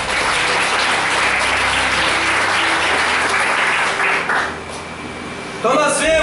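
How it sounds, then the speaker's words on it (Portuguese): Church congregation applauding during a Portuguese-language sermon, a dense, loud wash of clapping that runs steadily for several seconds, dips, then swells again near the end with a voice and music entering. "Você pode aplaudir o Senhor?"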